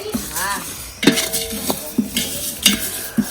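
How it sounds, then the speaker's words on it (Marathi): Cleaned bedgi chilli seeds roasting in a pan for homemade Malvani masala, with repeated scraping and clinking strokes of a spatula against metal over a soft sizzle, about six distinct stirring knocks at an uneven rhythm, close by. "आता ह्या बेडगी मिरचीच्या बिया आहेत ज्या साफ करून आम्ही भाजायला टाकल्यात"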